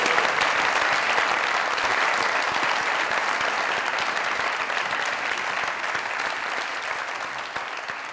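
A studio audience at a comedy talk show bursts into loud, sustained clapping, a thick wash of applause lasting about eight seconds and fading gently toward the end.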